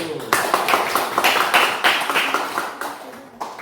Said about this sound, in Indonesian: Aplaus sekali lagi untuk kelompok 1